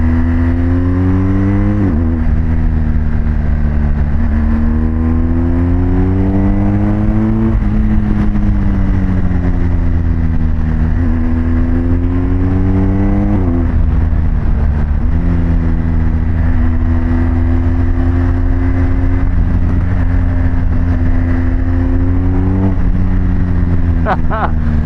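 A BMW GS Adventure motorcycle engine drones loudly at close range, its pitch climbing and dropping repeatedly as the rider accelerates and shifts through gears, with wind rush throughout.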